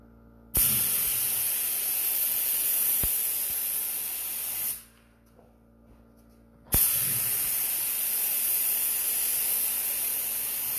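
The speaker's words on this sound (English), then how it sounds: "Now you start your spray off" Loud, steady hiss of clear coat paint being sprayed over patina paint, a long burst that stops for about two seconds, then resumes, close by.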